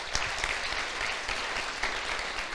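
A church congregation applauds, a steady, fairly soft rain of many hands clapping, with a few sharper individual claps standing out over about two and a half seconds.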